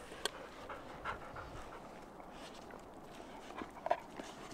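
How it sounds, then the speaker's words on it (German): A dog pants close by on a snowy Himalayan route in India, quick soft breaths with a few sharper sounds and light footsteps. "Und ein Hund ist hier noch vorbeigekommen."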